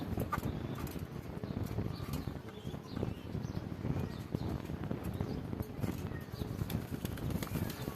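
Soft pigeon coos mixed with rustling and fluttering, a busy low murmur of birds close by with occasional clatter, steady throughout.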